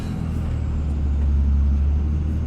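A Dodge Ram truck with a 5.9 Cummins diesel engine climbs a snowy West Virginia mountain pass in third gear around 1900 RPM, a steady, loud low rumble droning continuously without talk.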